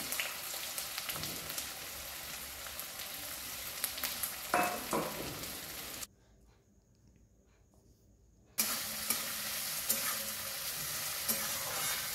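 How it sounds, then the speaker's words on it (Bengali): About 200 grams of finely chopped onions fry in a pan for butter chicken. A steady, moderately loud sizzle and crackle runs throughout, broken by a few seconds of near silence midway. "আর এখানে আমি 200 গ্রাম পেঁয়াজ খুব ভালোভাবে কুচি করে নিয়েছি। সেটাকে আমি ভেজে নিচ্ছি।"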